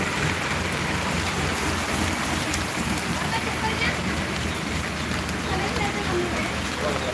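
Monsoon rain falling on a village in Maharashtra near farm fields, a steady, dense, close patter and hiss that holds evenly throughout.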